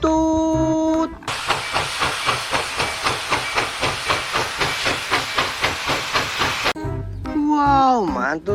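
A toy steam train gives off a rapid rhythmic chuffing hiss, loud and steady for several seconds, bracketed by a voice speaking before it and a voice speaking after it.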